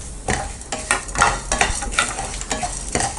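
Black pepper and sesame seeds roasting dry in a pan, stirred with a spoon in quick repeated scrapes that bring soft crackles and light sizzle, close up with no talking.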